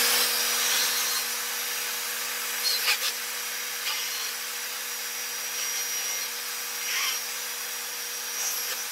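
A bandsaw cuts the outline of a Kydex knife sheath, giving a steady, continuous whirring hiss with a faint hum underneath and a few brief bumps as the blade works through the sheet.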